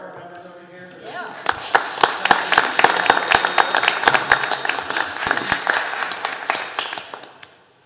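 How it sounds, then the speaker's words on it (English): A crowd at a city council meeting breaks into a round of applause for AmeriCorps members, with steady clapping from many hands that starts after a second and fades out near the end, mixed with a little chatter. "I want to give a little round of applause for our AmeriCorps members over here"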